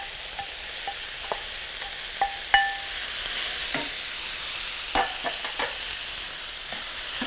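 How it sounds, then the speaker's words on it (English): Chopped red onion sautéing in a pan for vegan sambosak filling: an even, close sizzle with intermittent spoon scrapes and light clinks against the pan, without speech. "Now we will add the chopped red onion."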